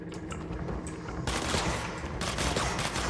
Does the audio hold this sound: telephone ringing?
no